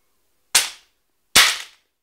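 Two sharp, loud impacts of a dumbbell smashing down onto a Nokia 6280 mobile phone, each a hard crack that rings briefly and decays, spaced under a second apart with silence between.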